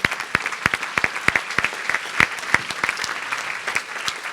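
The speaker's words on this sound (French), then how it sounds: "On peut applaudir nos quatre intervenants." Conference audience at a keynote presentation applauding its four speakers, a dense burst of many hands clapping with sharp individual claps standing out, steady throughout and gradually thinning toward the end.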